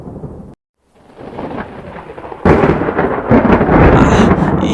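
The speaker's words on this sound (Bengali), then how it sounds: "ঝড় আসছে, ঝড় আসছে।" A thunderstorm in an animated jungle story: a rumbling roll of thunder, a sudden drop to near silence, then a loud crack that gives way to heavy, roaring rain and continued rumbling, with no voices.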